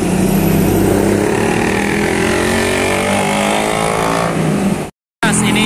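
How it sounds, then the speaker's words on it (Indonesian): A medium-sized Arjuna Samba tour bus passes close by on a city street in Ciamis, its loud engine rumble and rising whine sweeping past for about five seconds before cutting off abruptly. "Disusul oleh bus medium Arjuna Samba."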